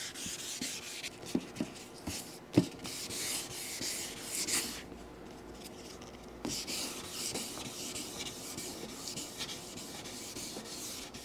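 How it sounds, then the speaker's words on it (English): Sandpaper rubs back and forth across an acrylic truck camper window, a soft, steady scratchy hiss with occasional light knocks, close and quiet with no talk. "I like this sandpaper, it's pretty good."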